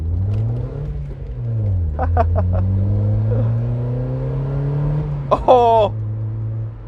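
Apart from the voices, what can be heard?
Chevrolet Cobalt car with aftermarket exhaust revving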